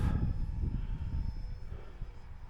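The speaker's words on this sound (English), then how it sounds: "Flying the Bighorn. Nice takeoff." A Bighorn RC plane with an electric motor and 3-cell battery takes off in a crosswind, its motor a loud, steady whine and buzz that stays close and fades only slightly, with wind rumble beneath.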